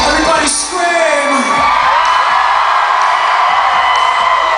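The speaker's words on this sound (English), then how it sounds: "Everybody scream!" A live rock concert crowd at The Marquee screams, whoops and cheers loudly in a sustained roar, with high yells rising above the dense mass of voices.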